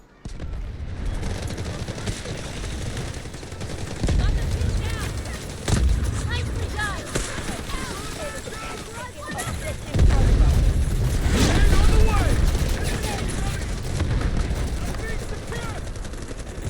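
Tank cannon fire in the Delta Force video game, heavy booms and bursts of gunfire running throughout a dense battle mix, with louder blasts near the middle and end and talk underneath.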